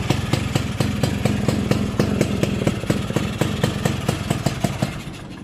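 A Yamaha RXS115 motorcycle from the 1980s with a stock engine, running steadily at idle nearby, a loud rapid even putter with a clattering beat that eases slightly toward the end.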